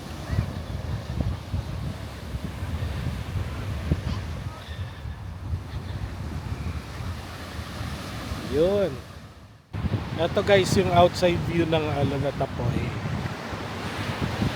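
Sea surf rolls and washes continuously at Alon at Apoy beach in Palauig, Zambales, mixed with wind buffeting the microphone, while people talk over it.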